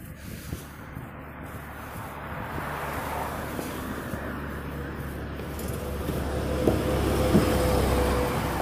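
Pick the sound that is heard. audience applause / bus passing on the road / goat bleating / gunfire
bus passing on the road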